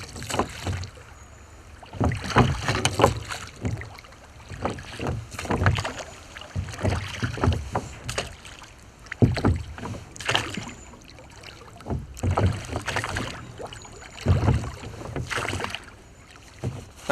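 Oars dip and pull through water in a steady, repeated rhythm, close by, from a rowing boat trolling for pike, with splashes and some wind noise between strokes.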